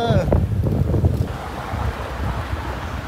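Strong wind buffets the microphone by a beach, a loud continuous rumbling gust with the wash of surf underneath.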